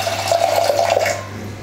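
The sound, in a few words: pouring water into a pressure cooker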